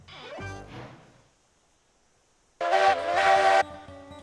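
Locomotive hauling a train in Railroads Online gives off a loud, close whistle-like harmonic blast of about one second, after a softer rumbling start and a quiet gap.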